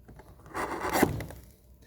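A hand chisel pares through wood while being leaned on to cut a 45-degree angle for a school oil stone case: a single rasping, scraping stroke of about a second that swells and fades, close and fairly quiet.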